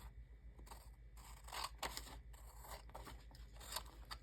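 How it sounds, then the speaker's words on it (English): Quiet, close snips of scissors cutting through cardstock and copy paper, a series of short crisp crunching cuts in an uneven rhythm. "So let me get out my scissors."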